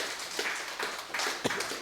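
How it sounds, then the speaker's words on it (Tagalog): Church congregation clapping, a scattered, fairly soft patter of hand claps with one sharper clap near the end, heard at a modest distance. "Palakpak muna po sa Panginoon."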